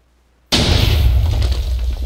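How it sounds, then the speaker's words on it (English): TNT cannon blast in Minecraft: half a second of silence, then one loud, sudden boom that rolls into a sustained crackling, rumbling roar lasting until the end. "there's the explosion"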